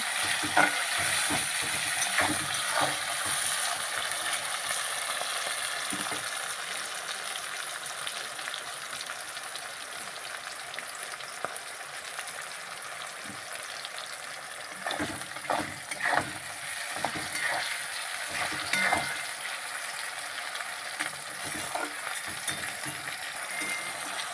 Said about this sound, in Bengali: পেঁয়াজ টমেটো কাঁচা লঙ্কা ভালো করে তেলের ওপরে ভাজা হয়ে গেছে